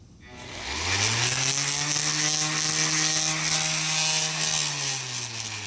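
A 3-amp electric sander runs off a power inverter installed in a 2017 Chevrolet Silverado pickup. Its motor spins up quickly into a loud, steady whine and holds close and alone for several seconds.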